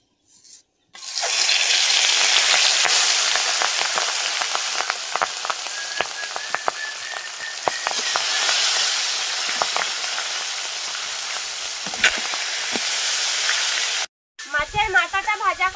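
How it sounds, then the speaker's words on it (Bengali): A catla fish head coated with salt and turmeric fries in hot oil in a kadai, giving a steady, dense crackling sizzle with scattered sharp pops that runs unbroken for most of the clip before stopping abruptly. "মাছের মাথায় লবণ হলুদ মাখিয়ে ভেজে নেব।"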